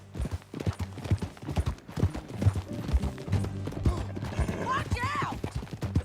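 Horse hooves clip-clopping during a ride in the video game Red Dead Redemption 2: a steady, rhythmic trot of hoofbeats up close, with a brief whinny near the end.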